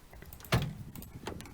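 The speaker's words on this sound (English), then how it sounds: "If you've got barn doors like on this Vauxhall Vivaro, then open up the rear doors." A rear barn door on a Vauxhall Vivaro van unlatches with a single close clunk, followed by a softer creak and a lighter knock as the door swings open.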